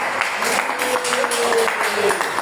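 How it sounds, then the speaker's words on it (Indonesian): A group of people claps together in a classroom-style gathering, a brisk, fairly close burst of applause with a voice sounding over it briefly. "Oke, kita beri dulu tepuk tangan semuanya kita."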